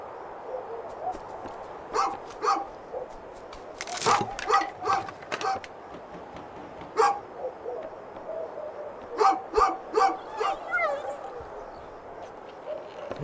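A dog in the video game A Juggler's Tale gives a series of short, sharp barks and yips in irregular bursts, heard under a narrator's voice.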